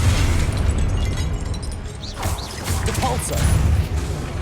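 A Confringo spell bursts in Hogwarts Legacy amid a loud, dense battle mix, with a sustained rumbling roar, sharp crackling pops, and whooshing sweeps layered over the din.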